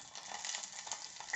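Cumin seeds crackle and sizzle in hot oil in a pan for tempering, a close, fizzing hiss with small popping bursts throughout, no voices.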